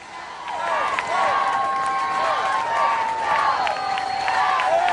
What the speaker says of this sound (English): I don't know if he's leading the cheer or enjoying the crowd cheering